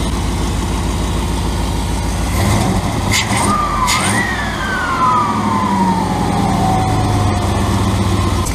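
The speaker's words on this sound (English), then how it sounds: "Leaking off the bottom of the V-band there, I think." A turbocharged 5.2L Dodge Ram leaking at the V-band clamp, idling with a steady low engine rumble under a hissing exhaust leak and a faint whistle that rises and then falls, close and loud throughout.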